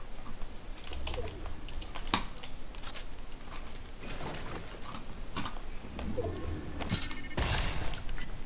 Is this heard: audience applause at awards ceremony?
no